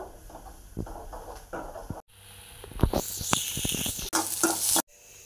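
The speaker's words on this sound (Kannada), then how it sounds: "ಕಟ್ ಮಾಡಿರುವ ಈರುಳ್ಳಿ, ಇದು ಸ್ವಲ್ಪ ಫ್ರೈ ಆಗಬೇಕು" Chopped onions frying in a little oil in a pan, with a soft steady sizzle under repeated scraping and stirring clatter, close up and with no talking.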